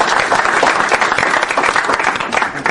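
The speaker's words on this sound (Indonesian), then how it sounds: "Mari kita beri aplaus untuk Bapak." Audience applause for a speaker at a memory enhancement training seminar, dense and steady clapping filling the room throughout, close and loud with no talking over it.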